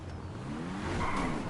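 A car with butterfly doors in GTA V accelerating and revving as it drives, the engine note rising with a brief tire squeal toward the end, close and moderately loud with no talk.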